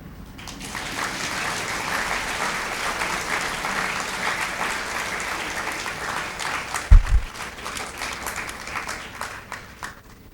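Audience applause at an MBA inauguration ceremony, a steady wash of many hands clapping for about ten seconds, fairly even in level with a couple of sharp thumps near the middle and a slight fade at the close.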